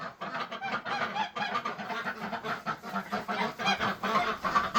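Farm birds in a pen, likely geese and chickens, honk and cluck continuously in a busy, overlapping chorus, close and fairly loud throughout.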